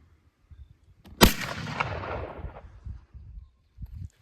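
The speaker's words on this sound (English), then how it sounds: "we're going to try it through a rifle and see what happens" A single loud rifle shot of a 45 Colt duplex load of smokeless and black powder behind a 300-grain bullet, sharp crack with a rumbling tail, followed by faint shuffling and clicks.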